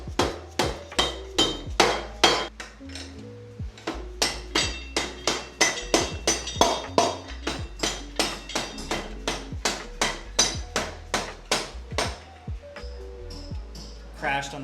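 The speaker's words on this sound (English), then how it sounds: "we'll hammer this axle through and we'll get this wheel taken off" A mallet pounds the axle out of a Harley motorcycle wheel, delivering a long steady series of sharp metallic blows, close and evenly paced, with brief talk in between.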